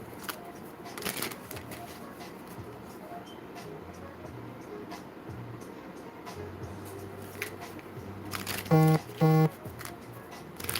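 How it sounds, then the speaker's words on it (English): A tarot card deck is shuffled in a few quick riffling bursts, fairly quiet against background noise, with a short tonal beep near the end. "Let's do some shuffles."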